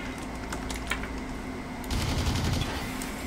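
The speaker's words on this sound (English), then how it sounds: "that shotgun is annoying" Shotgun fire in the first-person shooter Blacklight: Tango Down, several sharp blasts in quick succession, with a denser burst of shots and action near the end and no speech.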